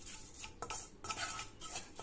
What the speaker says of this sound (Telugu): ఇవన్నీ స్టవ్ ఆఫ్లో ఉండగానే ఆ వేడి నూనెలో ఒకసారి ఇలాగా వేయించేసుకోండి.